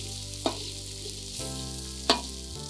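Steady sizzling of nasi goreng with anchovies stir-frying in a hot wok, with two sharp metallic scrapes of a utensil against the wok; no voices.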